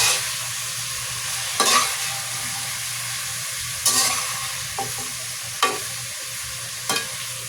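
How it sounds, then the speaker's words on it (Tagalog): Sautéed cabbage being stirred in a pan over a steady soft sizzle, with several distinct scraping clatters of the spoon at irregular intervals, close and fairly quiet. "ilagay na natin itong repolyo. I-continue uli natin yung paghalo"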